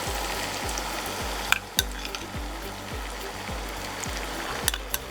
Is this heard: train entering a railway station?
no